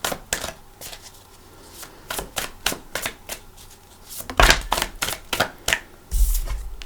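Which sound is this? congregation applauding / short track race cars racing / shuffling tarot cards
shuffling tarot cards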